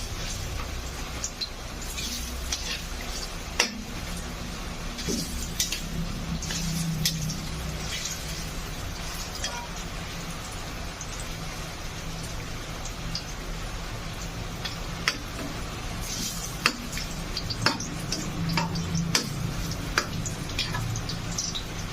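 Banana slices sizzling in hot cooking oil for banana cue, a steady close hiss with scattered sharp pops and crackles running throughout.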